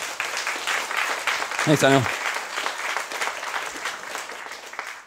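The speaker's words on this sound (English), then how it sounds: "Give him a round of applause, please." An audience at the NUI Galway Threesis 2015 competition applauds a presenter named Daniel. The clapping is continuous and fairly loud, someone speaks briefly over it, and the applause tapers off gradually.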